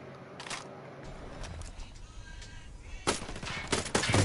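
Gunfire in the Ghost Recon video game: a few sharp shots early on, then a loud cluster of rapid, cracking reports near the end over a steady background hum.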